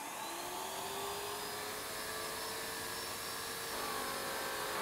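An airless paint sprayer pump runs steadily for cabinet painting, a loud, continuous mechanical whine and hum with a faint rising tone, unbroken and close, with no talking.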